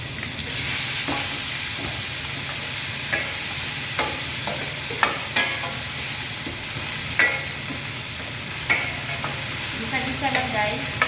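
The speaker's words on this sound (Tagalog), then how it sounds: "gisa na tayo ng sibuyas" Onion sautéing with rice in a pan, with a steady, hissing sizzle throughout and occasional clicks and scrapes of a spoon stirring, close up, with no talking.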